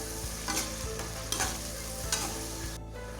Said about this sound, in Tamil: இப்போ இஞ்சி பூண்டு பேஸ்ட் ஆட் பண்ணியிருக்கோம். இந்த பச்சை வாடை போடுற வரையும் இது வதக்கினாலே போதுமானது